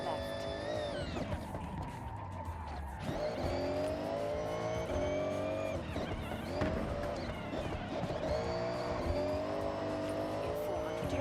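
A 1,700-horsepower car revs and accelerates hard, the engine pitch sweeping upward in repeated surges through gear changes, loud and close, with a voice talking over it.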